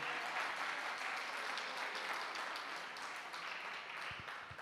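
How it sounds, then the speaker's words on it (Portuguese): A church congregation at a special missions service applauds, a dense, even wash of clapping from a large crowd that holds steady throughout. "Vamos aplaudir aqui. Né?"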